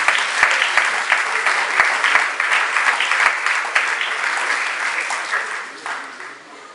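A church congregation applauding and cheering to acclaim the Lord, with dense, loud clapping that carries steadily for several seconds before tapering off, and a few voices faintly audible underneath.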